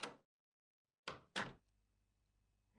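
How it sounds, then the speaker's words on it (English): A house door opening, with a short clunk of the latch, a pause, then two quick knocks or bumps as the door moves, followed by a faint low hum of room tone. "The door opens."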